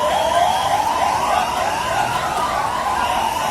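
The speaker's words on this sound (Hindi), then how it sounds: "वहीं घायलों को अस्पताल पहुंचाने के लिए एक के बाद एक एम्बुलेंस भी वहां पहुंची।" Ambulance sirens wail continuously and loudly, rising and falling in overlapping sweeps, as emergency vehicles arrive one after another at the scene of a collapsed footbridge near a busy railway station.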